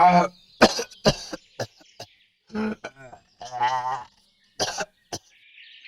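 An old man's harsh coughing and throat clearing in a Bengali horror cartoon, several separate loud close bursts with gaps of silence between them.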